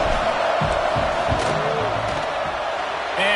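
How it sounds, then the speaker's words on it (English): At a Notre Dame college football game, a stadium crowd roars steadily and loudly during a field goal attempt, trying to rattle the kicker. The dense, unbroken crowd noise runs throughout, with a commentator talking over it. "This crowd trying to do its part to get inside the kicker's head."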